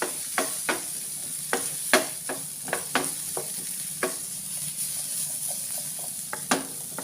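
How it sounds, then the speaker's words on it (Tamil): Pumpkin is stirred in a pan over a soft, low sizzle, with a dozen or so sharp spoon taps and scrapes at an irregular pace and no talking. "போட்டு நல்லா ஒரு மிக்ஸ் பண்ணுங்க."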